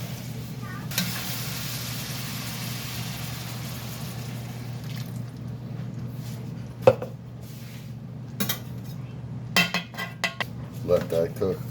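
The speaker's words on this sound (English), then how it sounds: "I'm going to drain a little bit of this liquid off here first" Liquid drained from a pan of hamburger and potato casserole: a steady hissing sizzle for several seconds, then scattered clanks and scrapes of utensils against the pan.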